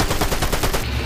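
Rapid bursts of enemy gunfire in Fortnite, a dense run of repeated loud shots at a steady quick rhythm, close and continuous with no talking over it.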